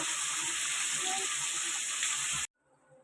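Turmeric powder, cumin powder and salt sizzling in hot oil in a pan, a steady loud frying hiss that stops abruptly near the end, leaving faint kitchen background.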